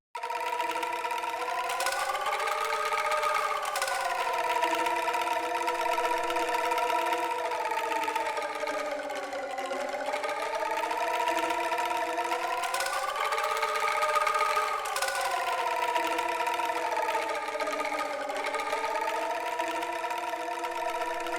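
Several angklung bamboo rattles shaken together on the same note in a big space, producing a steady, sustained shimmering tremolo tone that swells and dips slowly like a choir, continuous and moderately loud with no talking.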